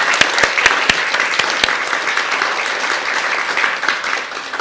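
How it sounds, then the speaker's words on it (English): Applause from a panel audience at an entomology event, a steady wash of many hands clapping throughout with a few sharper, louder claps standing out near the front. "I think we'll give our panellists another round of applause at this point,"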